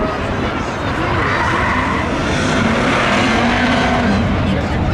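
Race cars, including a Chevy Camaro and a Pontiac Trans Am, roar loudly at a spectator drag race thrill show, a continuous engine drone with rising pitch under a commentator talking over the track noise.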